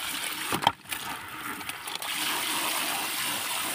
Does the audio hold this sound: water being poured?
yes